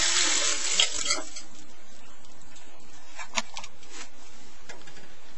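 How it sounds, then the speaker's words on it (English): Tap water gushes loudly into a sink while kidney beans are rinsed, the strong rush easing after a second into softer splashing and trickling with a few clinks. "And rinse them really well, taking out any dust or dirt."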